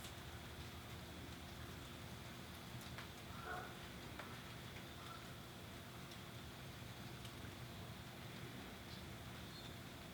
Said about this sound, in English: The rain's coming down here, so what a perfect setting.